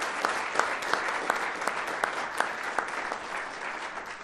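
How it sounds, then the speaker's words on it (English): A crowd of community members at a civic sister-city signing ceremony in Albuquerque, New Mexico, gives a sustained round of applause, with steady dense clapping and a few sharper claps cutting through. "give all of our Albuquerque and state of New Mexico and our community members a great round of applause"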